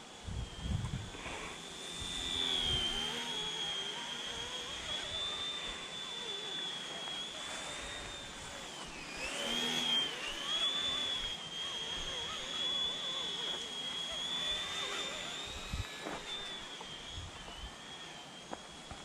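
Cheap realistic RC helicopter flying outdoors in strong wind, a steady high-pitched motor whine with rotor noise that rises and falls, with wind buffeting throughout.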